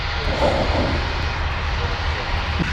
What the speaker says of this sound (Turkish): hemen karşıda havalanma görüyorsunuz